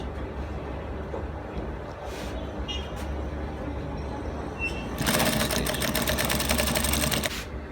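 A sewing machine stitching a shirt collar: faint handling noise over a steady low hum, then the machine starts and runs in a loud, fast, even whirring chatter for a couple of seconds before stopping, with no speech.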